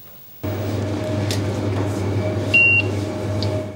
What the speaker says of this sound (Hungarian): Csipogó bevásárlólista,